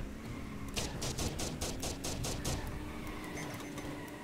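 Rapid gunfire rattles from a kart in Smash Karts, a quick run of about a dozen sharp, evenly spaced shots, moderately loud against steady engine and game noise.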